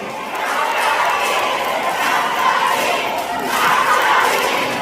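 A concert crowd at an outdoor market stage in Bongwha, Gyeongbuk shouts a chanted response in unison, a broad roar of voices that swells twice over a constant crowd background.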